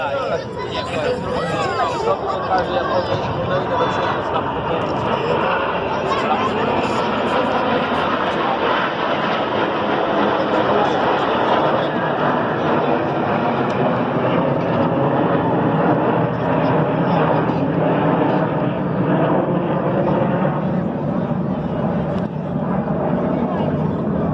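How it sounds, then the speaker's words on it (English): Red Arrows jets flying a formation display, a broad, steady roar of engines that holds for the whole stretch, heard from the ground with crowd chatter and a commentator's voice mixed in. "As the aircraft move off to our right-hand side"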